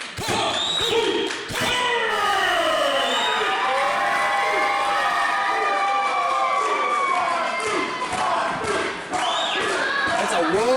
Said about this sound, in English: That's a roar of a crowd happening right now for Kung Fu Kirk